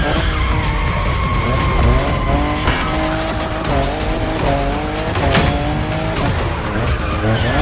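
A car drifts hard in The Crew Motorfest racing game, its engine roaring loud and steady while the tires squeal in long, sweeping skids throughout.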